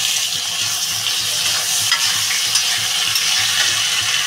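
Tomatoes and potatoes hit a hot pan of oil for a dried-shrimp and cabbage fry, setting off a loud, steady sizzle that runs unbroken throughout, with the soft scrape of stirring.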